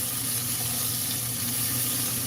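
Beef chunks seasoned with salt and pepper sauteing in a pan, a steady close hiss and sizzle throughout with no breaks and no talk.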